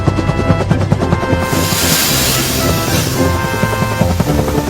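Harold the cartoon helicopter flies in a children's train show, a loud, continuous rotor whir blended with a steady music bed throughout.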